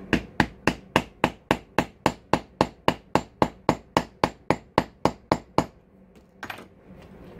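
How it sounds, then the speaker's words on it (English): A rawhide mallet strikes a metal leather snap setter in about twenty quick, evenly spaced sharp whacks close up, then the blows stop and a few faint handling noises follow. "And I'm just using my rawhide mallet."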